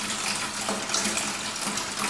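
Soapy wash water drains out of a biodiesel washing setup in a steady, hissing gush, like a running tap, that stays even and fairly close throughout with no voices.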